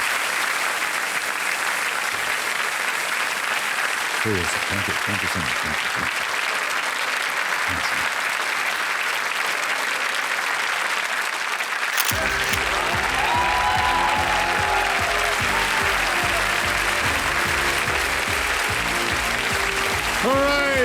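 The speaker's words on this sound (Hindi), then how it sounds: "तालियां बज जाएं उनके लिए।" Studio audience on a TV quiz show applauding steadily throughout, with someone speaking briefly over the clapping and music swelling in during the second half.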